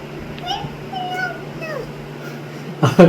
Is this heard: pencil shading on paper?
no